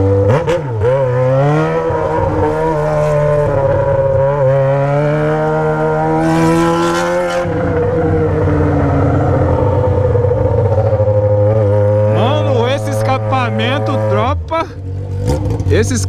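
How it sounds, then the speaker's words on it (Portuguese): A Yamaha XJ6 motorcycle exhaust revs loudly and repeatedly up close, roaring and crackling as the pitch climbs and drops, with someone talking over it. "Esse escapamento, a pessoa que tá olhando de fora se sente assombrada"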